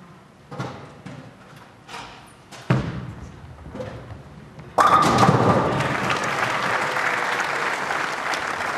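Bowling ball striking pins at a televised Weber Cup match, a sharp crash of falling pins after quieter thuds, followed by loud sustained crowd applause and cheering.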